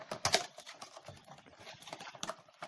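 Packaging of an Axe Signature gift set being opened by hand, with close, crisp crinkles, taps and clicks in quick irregular bursts, the loudest at the start, and no talking.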